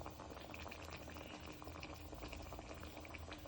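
A pot of chickpea and potato curry simmers and bubbles, giving a continuous, soft, close sound of popping bubbles with no talking.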